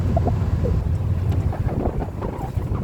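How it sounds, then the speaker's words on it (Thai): Strong, cold wind buffets the microphone outdoors at Thap Lan National Park near Khao Yai, making a loud, continuous low rumble with gusty surges and no voices. "ลมก็แรง"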